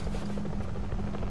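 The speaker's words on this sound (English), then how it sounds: "Avoid the helicopter?" Helicopter in the Metal Gear Solid V video game, a brief, faint, steady rotor drone with a low hum and no voices.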